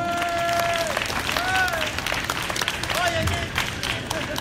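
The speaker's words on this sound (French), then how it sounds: "bonne main d'applaudissement pour Loïc, tout le monde!" Applause for Loïc at the 2017 Quebec show Mudrunner display: a few seconds of steady clapping from a crowd, with voices and whistles mixed in.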